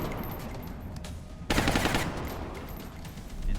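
Suppressive gunfire in XCOM: Enemy Within with the Long War mod, a loud burst of rapid automatic fire erupting midway through quieter game ambience, without any talking.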